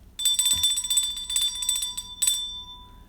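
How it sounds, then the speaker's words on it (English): A bell sound effect rings in three quick bursts of bright, metallic jangling with a sustained tone between them, close and clear with no talking. "Ring the bell for Randy."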